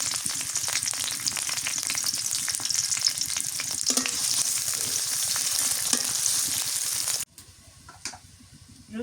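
Chopped onion, two bay leaves, cloves and crushed whole spices fry in a pan for a village-style desi chicken curry, a steady loud sizzle that drops off sharply near the end.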